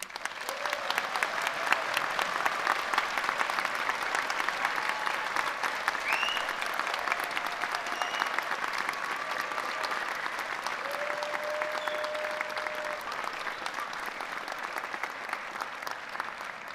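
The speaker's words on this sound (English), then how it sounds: "could we raise the roof with a very big round of applause" Sustained applause from a large crowd at a university graduation ceremony, steady dense clapping filling the room for the whole stretch without pause.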